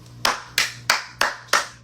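Hand clapping in a round of applause: six sharp, evenly spaced claps about a third of a second apart, close and clear with nothing else behind them.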